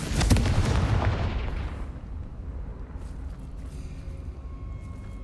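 A Confringo blasting spell explodes in the video game Hogwarts Legacy, a loud close burst with crackling impacts that decays into a rumbling tail over a few seconds.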